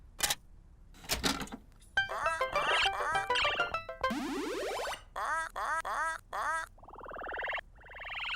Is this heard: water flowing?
no